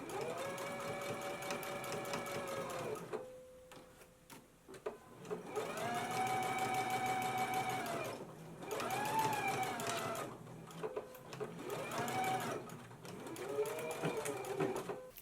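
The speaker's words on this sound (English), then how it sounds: "let's go ahead to the machine now and stitch the yoke facing in place" A sewing machine stitches the yoke facing of a McCall's 7330 jumpsuit in several sustained motor runs, each lasting a few seconds, with short pauses between them and a steady, close, loud whir.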